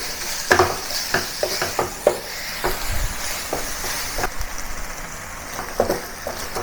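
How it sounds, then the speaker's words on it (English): Minced pork sizzles steadily in a pan over medium heat while a spatula scrapes and taps repeatedly, close and clear. "Continue frying the pork until it's cooked over a medium heat."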